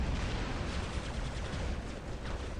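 Continuous rapid weapon fire from a Prisma Erebus in a shooter video game makes a dense, unbroken roar of overlapping blasts. It stays steady and loud for the whole stretch, with no talking.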